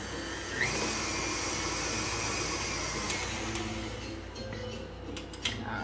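A stand mixer with a paddle beating cream cheese cookie dough, giving a steady, loud motor whir and hiss that carries on throughout, with a few faint clicks near the end.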